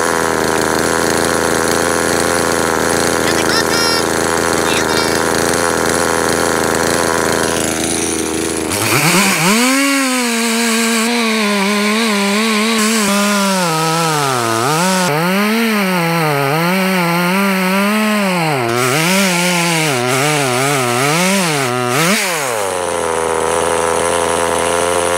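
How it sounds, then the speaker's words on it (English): A chainsaw idles briefly, then roars into a loud cut with rising and falling engine pitch as it bites through wood, before settling back to idle. "Today I have my chainsaw."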